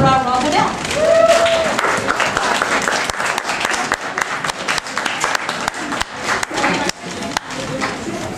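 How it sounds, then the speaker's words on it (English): A live audience claps and cheers to welcome a performer onto the stage. The applause is loud and sustained, with dense crowd clapping that carries through the whole stretch and voices mixed in. "So can we hear it for Rob Waddell?"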